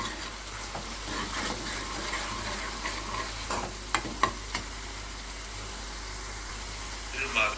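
A tadka of spices with deggi chili is stirred in a pan, giving a steady low sizzle with a few sharp scraping clicks near the end.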